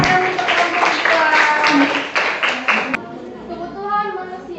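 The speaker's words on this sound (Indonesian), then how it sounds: "tepuk tangan untuk kelompok 2." Seventh-grade students in a social studies classroom clap for group 2 after its presentation. Dense, steady clapping with voices mixed in runs for about three seconds, then stops abruptly as talk continues.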